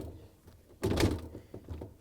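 A plastic freezer basket in an LG/Kenmore refrigerator is pushed back into place, giving one dull, close thunk with a brief scraping slide, followed by faint lighter knocks.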